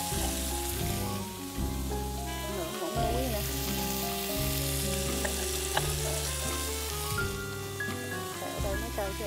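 Meat and apple snails frying in a pan for a Vietnamese banana and snail soup, with a steady broadband sizzle that runs throughout, close and fairly loud, under continuous background music.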